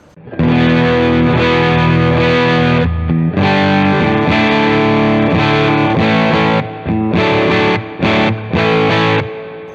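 A heavily distorted electric guitar plays loud sustained chords through a tube amp with a post-phase-inverter master volume set to full, with brief pauses and choppy stops near the end.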